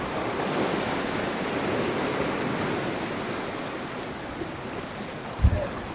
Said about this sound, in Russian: в одну сторону мы видим бескрайний Атлантический океан